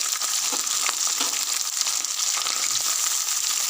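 Chana dal, green chillies and onion fry in hot oil with a constant bright sizzle, heard close up, with a few faint stirring scrapes and no voices.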